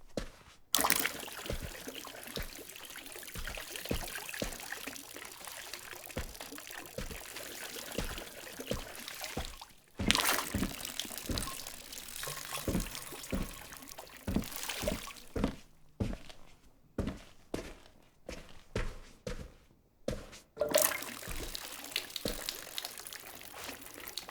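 In the PS5 game The Berlin Apartment, water splashes and trickles from a watering can over houseplants in several separate pours, interrupted by thuds, footsteps and brief quiet pauses, with no talking.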